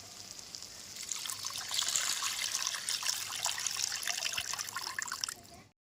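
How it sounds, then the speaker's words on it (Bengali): Water poured into a pan to make gravy for an egg omelette masala curry, cooked village style; a steady trickling, splashing stream builds for about five seconds and then stops. "এবার গ্রেভির জন্য দিয়ে দেবো জল।"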